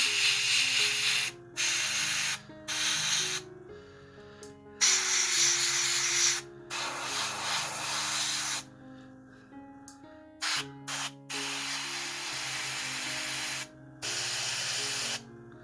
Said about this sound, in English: I always love painting with airbrushes